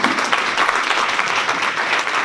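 Audience at a March for Our Lives congressional candidate panel breaks into steady, dense applause, a continuous wash of many hands clapping close and loud with no gaps.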